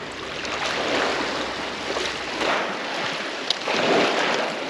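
Outdoors while fishing, waves break and wind blows in a continuous broad rush, with louder swells rising and falling through the sound.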